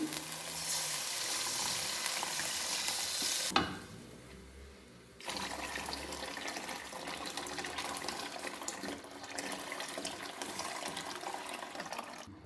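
About three litres of water go into a kadhi pot, a loud rushing pour that stops abruptly, leaves a short quieter gap, then resumes as a steady splashing flow until the end.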